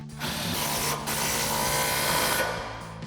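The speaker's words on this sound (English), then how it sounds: "take our impact 21mm socket and tighten that down" An impact wrench with a 21mm socket tightens a nut on a RAM 1500 suspension lift kit, a loud continuous whirring burst lasting about three seconds with a brief dip near the start.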